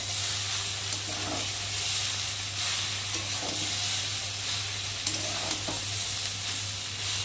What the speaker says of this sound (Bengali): এবার নেড়ে দেবো।